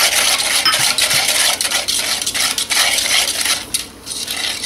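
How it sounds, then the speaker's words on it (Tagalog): Cornstarch and sugar mixture stirred in a pot for crema de fruta, with a utensil scraping and tapping against the pot in an uneven, continuous rhythm, no talk. "Haluin lang natin to completely hanggang matunaw yung ating sugar."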